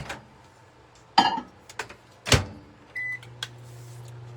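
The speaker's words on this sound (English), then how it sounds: "Okay, this is going to go in the microwave." A microwave oven handles an Oreo mug cake: sharp door and keypad clicks and a short beep, then a brief low hum as it starts running. It is quiet and close, with no talking.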